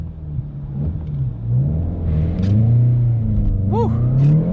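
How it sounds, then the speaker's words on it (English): A manual VW Golf GTI with a track exhaust revs and launches: a loud, close engine drone climbs in pitch as the car pulls away and shifts, with a short whooping rise near the end. "revving it up a little bit before you let the clutch out and just trying to get off fast"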